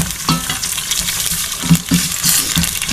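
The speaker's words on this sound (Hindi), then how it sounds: "तो ये मैं चिकन इसमें शामिल कर रही हूँ।" Chicken pieces sizzling and frying in a hot pan for Kashmiri chicken, a steady close crackle with occasional stirring clatters and small pops.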